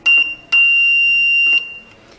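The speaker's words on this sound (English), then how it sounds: "the long beep will be the dash and the short one will be the dot" Morse code beeps keyed with a button on an electronic circuit: a short tone, then a long steady tone and another short blip, each sharp, loud and close, with brief clicks between.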